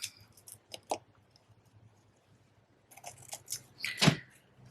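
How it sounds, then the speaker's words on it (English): Scissors trim the ribbon ends of a handmade bow on a card in a few short, crisp snips, with a pause between bursts and a sharper cut near the end, close and quiet. "Give them a little trim."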